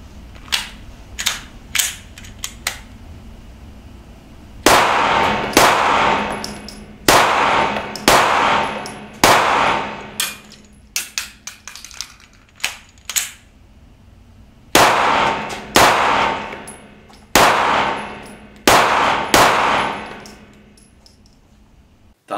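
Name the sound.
Smith & Wesson M&P 9 M2.0 Compact 9 mm pistol shots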